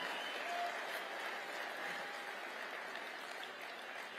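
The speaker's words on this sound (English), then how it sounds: "Let's give them a round of applause." A large crowd at the America Fest 2023 conference claps steadily for young people in the audience, a dense, distant-sounding wash of applause that holds evenly throughout at low level.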